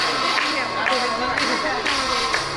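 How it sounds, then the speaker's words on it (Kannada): An audience at a school sports prize distribution applauding, dense crowd clapping mixed with cheers and children's shouts, with a loud voice speaking over it. "ಜೋರದ ಚಪ್ಪಾಳೆ ಬರಬೇಕು"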